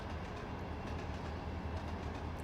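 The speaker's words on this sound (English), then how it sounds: "Such a beautiful train." A train running on the Harward Subdivision in the Trainz 22 railway simulator, a steady, continuous low rumble of engine and wheels with faint rhythmic clicks, moderately quiet and unbroken with no voices.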